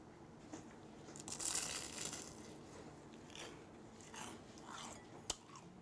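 Crispy fried Chinese-style shrimp toast (menbosha) being bitten and chewed up close, with a soft crunching run that swells in the middle and one sharp crack near the end, and no talking.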